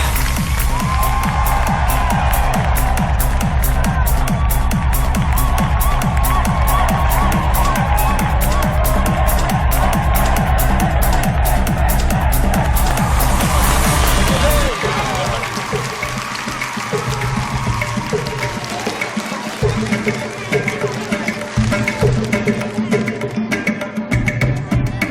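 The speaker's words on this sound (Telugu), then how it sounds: "బాగా ఉత్సాహంగా చప్పట్లు కొట్టండి." A crowd claps rhythmically and cheers for a performer, loud and close, the steady beat of clapping strong at first, then thinning into looser applause with scattered shouts and voices.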